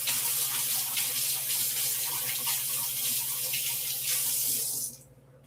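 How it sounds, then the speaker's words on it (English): A whisk rinsed under a running kitchen tap, a steady loud rush of water splashing into a sink that stops abruptly near the end. "I better rinse off my whisk"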